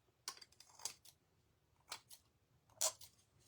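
Scissors make a few quiet, close snips spaced out in an otherwise hushed room, each cut a brief crisp click.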